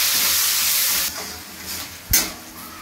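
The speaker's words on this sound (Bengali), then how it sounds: "কুচানো পেঁয়াজগুলো দিয়ে দিচ্ছি। পেঁয়াজগুলো একটু লাল করে নেব ভেজে।" Chopped onions hit hot oil with cumin and sizzle in a loud broad hiss that fades after a second, then a stirring clack and a fresh burst of frying, close and with no talk.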